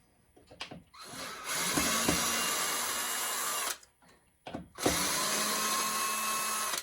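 A power screwdriver whirs in two sustained bursts as it backs screws out of flipper mechanisms on a Revenge From Mars pinball machine, with brief clicks and handling noises between runs and no talk.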